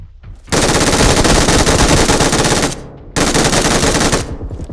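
Loud, sustained automatic gunfire from P90 and UMP weapons in the PUBG video game, two long continuous bursts of rapid shots separated by a brief pause, close and dominant with no talk.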